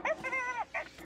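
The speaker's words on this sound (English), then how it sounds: "Stupid dog." A dog whimpers in a short, high, wavering whine, close and fairly loud, with a brief yip at the start and another squeak at the end, over a quiet indoor background.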